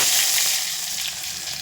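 Mustard seeds sizzle in hot oil for Maharashtrian masoor dal, a loud close hissing fry that starts strong and eases slightly while staying continuous, with no talking.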